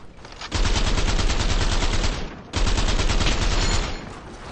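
Rapid automatic gunfire in a shooter video game, two long loud sustained bursts of dense shots separated by a brief pause, close and alone without talk.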